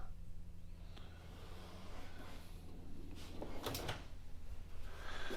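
A junk drawer in a garage slides open with a low rumbling scrape, followed by a sharp clatter of loose contents, fairly quiet and with no voices.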